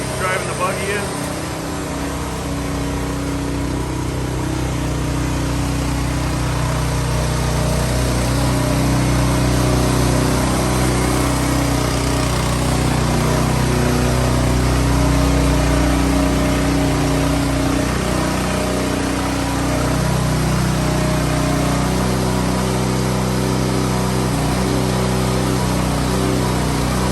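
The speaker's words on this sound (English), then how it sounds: "I'll show you what it looks like driving the buggy in" Engine of a concrete power buggy driving in on a slab replacement job, a loud, steady mid-pitched motor drone running continuously and close throughout.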